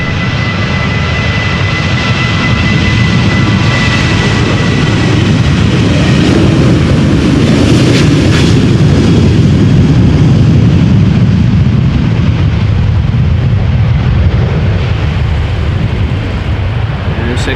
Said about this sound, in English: Now, Boeing 737-800 from KLM, flight 1281 going to Edinburgh.